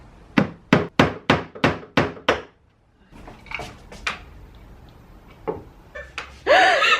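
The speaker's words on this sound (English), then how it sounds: "as I was banging the nail with the hammer" A hammer strikes a nail into wood eight times in a quick, even rhythm, sharp and close, followed by scattered knocks and a brief voice.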